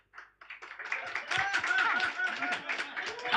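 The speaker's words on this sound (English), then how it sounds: "you're gonna clap a little" A comedy club audience in Lviv practices light clapping together with laughter, scattered claps building into a lively mix of clapping and laughing voices.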